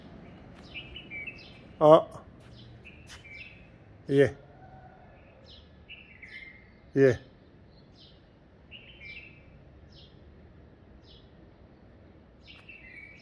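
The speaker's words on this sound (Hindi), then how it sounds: "ये बुलबुल की आवाज़" Short bright bulbul chirps and warbling phrases repeat over a low background hum, with a few louder sharp clicks and brief speech.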